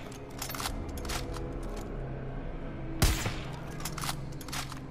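Gunfire in the video game Far Cry 5 as a player empties remaining ammo, rapid shots popping over a low game hum, with one louder burst near the middle.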